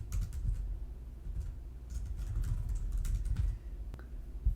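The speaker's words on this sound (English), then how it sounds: "we try typing into these inputs" Someone types on a computer keyboard into web form input fields while coding, producing a steady run of quick, close key clicks with soft thumps. No one speaks during the typing.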